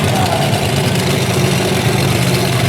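Steady low rumble of the Bigfoot 18 monster truck engine idling at an outdoor racing event in Little Valley, New York, loud and continuous, with an announcer talking over it.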